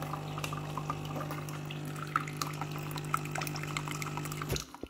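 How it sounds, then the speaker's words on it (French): A coffee machine rinses with water. A steady low motor hum runs under a soft trickle of flowing and dripping liquid, faint and close, until it stops abruptly near the end. "Vous voyez, ça se rince."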